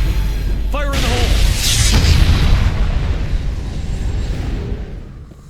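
A grenade detonates in the Mass Effect video game, a loud deep boom that rolls out into a long rumbling decay, with a short tonal sound effect just before the blast.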